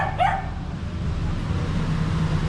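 A single dog barks at night in Peru, one short bark near the start, then a steady low background hum continues with no further barking.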